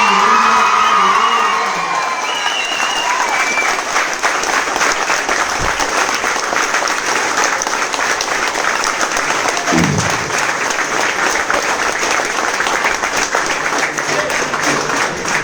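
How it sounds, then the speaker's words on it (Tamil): A large crowd at a TVK political rally bursts into loud applause and cheering for the party leader, with shouts and whoops mixed into dense, sustained clapping. A voice is heard briefly at the start. "இங்க தலைவர்னு சொன்னாலே கைத்தட்டல்."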